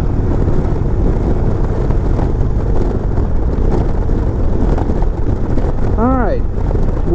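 A 2020 Indian Chieftain Limited motorcycle cruises on the interstate in sixth gear at about 60 mph and 2400 RPM. A loud, steady engine and wind roar continues without a break, with a brief tonal sound near the end.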